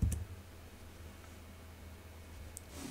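A single computer mouse click to verify an email address, crisp and close near the start, with a second faint tick later over a low room hum.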